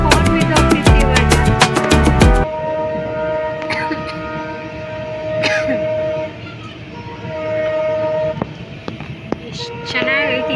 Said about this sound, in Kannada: ಮಂಗಳೂರು ಟು ಬಾದಾಮಿ ಹೊರಡ್ತಾ ಟ್ರೈನ್ ಜರ್ನಿ ಮಾಡ್ತೀವಿ